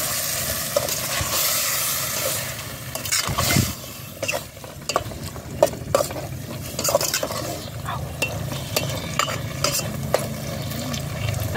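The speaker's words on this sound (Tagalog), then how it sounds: "igigisa lang natin siya ng very light" Tuna pasta ingredients are lightly sautéed in a pan at a farm, with steady close sizzling and frying hiss broken by scraping stirs and clinks of a utensil against the pan throughout.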